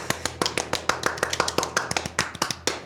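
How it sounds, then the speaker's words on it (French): A few people clap their hands in a quick, uneven burst of applause, close and crisp, with no talking. "Faut applaudir."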